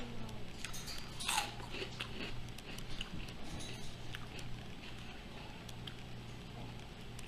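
Close, faint crunching as someone bites and chews a shrimp-flavored potato chip snack, with soft irregular crackles and one sharper crunch early on over low room hum.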